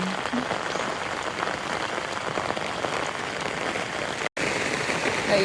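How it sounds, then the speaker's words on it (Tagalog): Heavy typhoon rain pours steadily in a dense, loud, unbroken hiss, close by and continuous, with one brief dropout near the end. "Ulan, hindi tumitigil."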